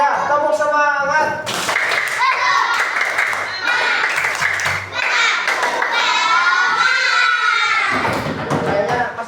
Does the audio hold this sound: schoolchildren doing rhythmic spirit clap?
yes